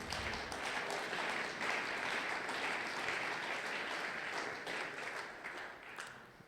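A church congregation at a Sunday praise and thanksgiving service applauds, sustained steady clapping from a large crowd heard at a moderate distance throughout.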